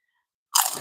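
Single sharp crunch of biting into a crispy fried beef taquito with sour cream and salsa verde, close and loud after a moment of silence.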